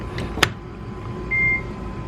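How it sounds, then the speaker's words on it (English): An electric car charger gives a single short beep at a steady pitch over a low background hum, preceded by a faint click. "Oh, it beeped."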